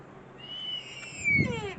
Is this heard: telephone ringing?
no